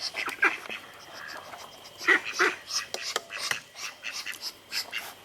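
Ducks grumble and quack in short nasal bursts close by, several calls scattered irregularly over soft background noise, with faint voices now and then.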